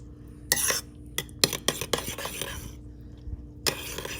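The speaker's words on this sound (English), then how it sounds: "Mix it real good. See, it's mixing." A spoon stirs a mushroom soup and pork chop mixture in a pot, giving close, irregular clinks and scrapes in short bursts with brief pauses between them, and no voices.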